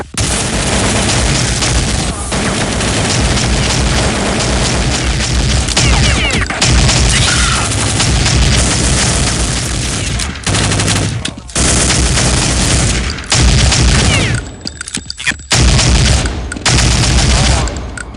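Sustained automatic gunfire and blasts from a grenade explosion in Counter-Strike: Condition Zero, loud and dense for the whole stretch with only brief gaps, with occasional voice chatter underneath.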